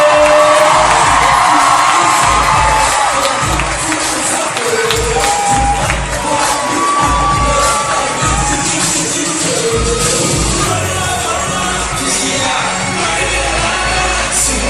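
A large cinema crowd at the Grand Rex cheers, whoops and shouts for the director's first film, a loud, sustained roar that holds steady and dense from start to finish.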